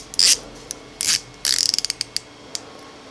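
Rotating bezel on an Invicta Sea Base titanium diver watch being turned, a few short bursts of crisp ratcheting clicks, then a quick run of separate clicks slowing to single ticks, close and alone.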